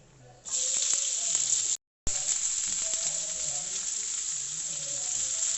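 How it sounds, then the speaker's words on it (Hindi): Chopped medium onion and mustard seeds hitting hot oil and sizzling steadily, loud and close, with a brief cut of silence partway through and faint stirring underneath. "राई डालेंगे और साथ ही मैं इसमें प्याज ऐड कर दूँगी"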